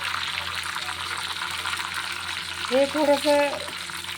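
Garlic, curry leaves and bay leaf sizzle in hot oil with a continuous close hiss, while a person talks briefly over it near the end.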